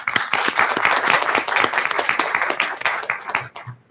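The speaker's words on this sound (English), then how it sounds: "giving a round of applause to celebrate all of Team UCPS" A round of applause from a small group at a school board meeting, steady clapping at moderate volume that tapers off toward the end.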